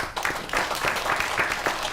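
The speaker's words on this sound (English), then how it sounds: "Can we have a round of applause for our fantastic panelists?" Audience applause for the panelists at an evening panel event, a steady wash of clapping from a crowd lasting a couple of seconds.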